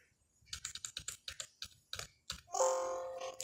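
Close, crisp keystrokes on a computer keyboard tap out a quick burst of about a dozen clicks, followed by a short electronic chime-like tone at the end.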